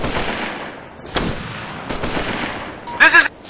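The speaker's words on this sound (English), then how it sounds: "We're taking heavy fire!" Gunfire in the military shooter game Operation Flashpoint: Red River, with sharp shots and bursts cracking out over a continuous noisy battle backdrop, loudest near the end.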